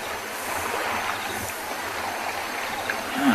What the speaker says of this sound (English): Splashing and tussling.